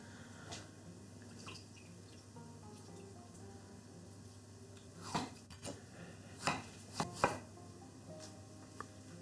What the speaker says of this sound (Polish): Teraz czas na obranie i pokrojenie pomidora.